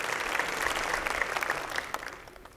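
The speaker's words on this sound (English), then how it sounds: "Can somebody give the Lord a hand clap of the good things that he's going to do in your life?" A church congregation applauds during a sermon, a steady wash of many hands clapping at moderate volume that slowly thins out toward the end.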